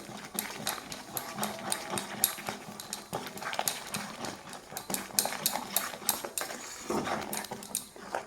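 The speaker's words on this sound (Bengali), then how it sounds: "একটু একটু করে গুঁড়া দিব আর নাড়াচাড়া দিব যাতে দলা পেকে না যায়" Rice flour is stirred in a pan while being added bit by bit, giving a busy run of close scraping and knocking strokes with uneven rhythm, loud throughout and without speech.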